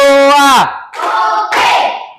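A class of pupils answers with two loud, rhythmic bursts of hand clapping, close and sharp, right after a teacher's voice calls out.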